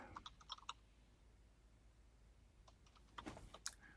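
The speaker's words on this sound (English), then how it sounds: "What are you typing away over there?" Keyboard typing on a computer in short bursts of quick clicks, with a pause in the middle before another flurry of keystrokes, fairly faint against a quiet room.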